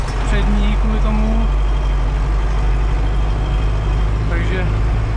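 A Zetor 9540 tractor hauling square bales drones with a loud, steady low engine rumble up close while someone talks over it.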